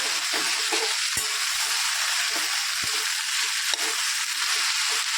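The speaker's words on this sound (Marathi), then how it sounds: "ही चांगली एक मिनिट अशी परतून घ्यायची आहे स्लो मिडियममध्ये" Okra sautéed with spices over slow-medium heat, a gentle continuous sizzle close up, punctuated by a few sharp taps of a spoon against the pan.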